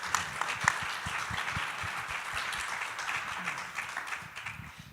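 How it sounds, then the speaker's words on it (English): A round of applause at a talk event rolls on for about five seconds, moderately loud and even, with individual claps blending into a continuous patter that tapers at the end. "Whew, round of applause."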